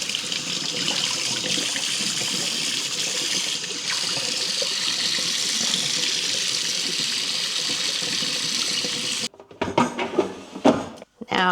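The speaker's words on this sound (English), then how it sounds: "I also like to rinse my bacon before I cook it" Tap water running steadily over raw bacon in a sink, a constant close splashing rush lasting most of the time before stopping, followed by a few handling clunks.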